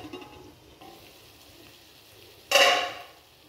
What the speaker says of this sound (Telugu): సో వీటిని మనం లో ఫ్లేమ్లో చక్కగా కలుపుతూ ఉండాలి.